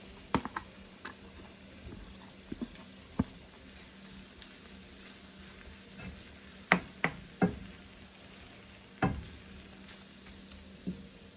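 Saltfish stirred in a frying pan, scattered sharp clacks and scrapes of a utensil against the pan over a faint sizzle, sparse and close, with no talking.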